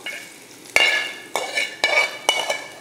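Hot tempering poured from a small pan into coconut chutney, giving a sharp sizzle that bursts out and then repeats in four or five quick crackling pours, close and loud with no talk.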